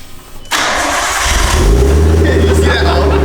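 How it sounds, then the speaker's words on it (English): Nissan R32 Skyline with a full exhaust cold starts: a sharp starter crank catches into a loud, rising engine roar that settles into a steady rumbling idle up close. "Cold start."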